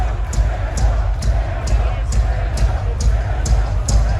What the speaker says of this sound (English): And the crowd was so awesome. They started chanting the kid's name.